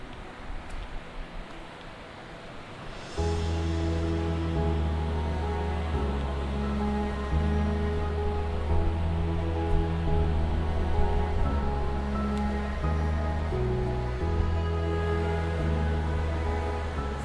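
Rough open-ocean waves on Tasmania's wild east coast roll in as a loud, continuous roar of surf after a quieter opening, steady and close, with no voices.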